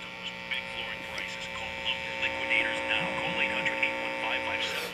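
Late-1960s or early-1970s York B/E 104 AM FM radio receiving weakly, giving faint hum and a thin, muffled trace of distant broadcast voices under steady hiss.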